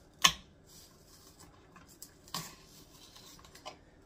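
A small knife cutting green onion on a board for crab rangoon: a few sharp, scattered chops and taps, close and fairly quiet, with gaps of near silence between them.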